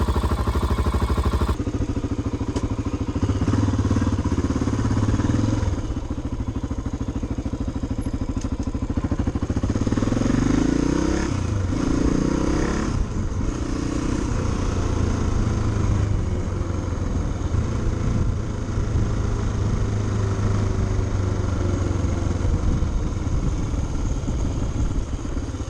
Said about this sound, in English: start off by warming the bike up. I'll let it run for a little while